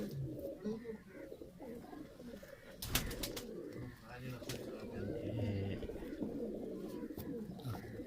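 Teddy pigeons coo on a rooftop loft, with low repeated cooing calls running under the scene and a few sharp clattering sounds near the middle.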